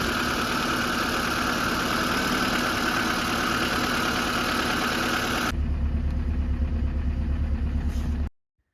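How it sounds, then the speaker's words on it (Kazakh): A VAZ car engine idling steadily just after starting, following fuel pump and spark repair, a close continuous hum that shifts in tone partway through before cutting off abruptly. "Мінекей достар, көлігіміз оталды."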